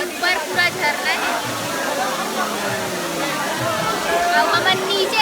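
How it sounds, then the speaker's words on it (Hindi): A waterfall at Chingar Parag near Gariaband pours in a constant rushing wash while several people talk nearby, their voices rising over the water. "झरना है"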